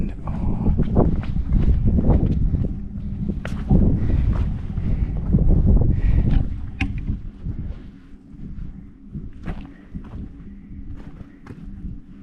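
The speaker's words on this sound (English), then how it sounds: "The wind is gonna ruin all of this footage" Gusty wind rushes through an ancient canyon and buffets the microphone in heavy, low rumbling blasts that ease off after several seconds, with a person faintly talking in between.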